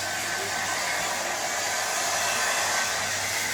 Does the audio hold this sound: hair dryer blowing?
yes